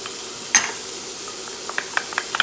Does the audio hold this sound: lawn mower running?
no